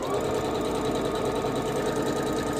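Sewing machine stitching through a red quilt during finishing, a fast, steady mechanical chatter with a motor whir, close-up and uninterrupted.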